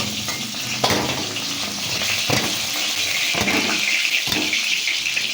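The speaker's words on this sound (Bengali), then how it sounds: "আমার ভাজা করা হয়ে গেছে এবার আমি তুলে নেব" Fried katla fish being lifted out of hot oil in a pan, a continuous close sizzle broken by a few scraping and clinking knocks of the utensil, with no voices.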